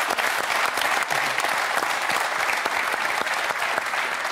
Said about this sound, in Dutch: geef haar een applaus